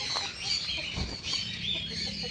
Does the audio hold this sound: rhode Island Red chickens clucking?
yes